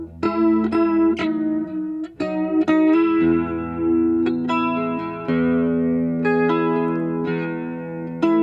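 An electric guitar runs through an Asheville Music Tools ACV-NOS pedal, plucked notes and strummed chords ringing with a lush, shimmering modulation that tightens from a washy, reverberant delay into a closer chorus.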